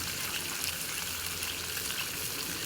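Egg and bacon fry on a small camping burner outdoors on a chilly day, a steady close sizzle and crackle with no talk.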